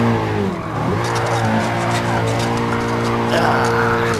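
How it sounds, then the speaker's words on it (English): A car drifts in the Gran Turismo Sport VR racing game, its engine droning steadily while tires squeal and skid almost without pause, loud and close throughout, with a voice talking over it at times. "it's tricky to drift in granturismo"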